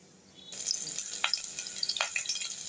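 Oil heating in a pan for tempering starts from near quiet and rises into a continuous light sizzle with a couple of sharper crackles, close and fairly faint, with no talking.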